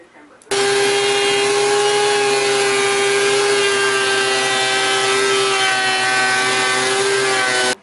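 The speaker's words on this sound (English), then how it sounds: "Now I'm gonna run this board through the planer." A wood planer starts abruptly and runs a board with a loud, steady mechanical whine and roar, holding the same pitch for several seconds before cutting off, with no voice over it.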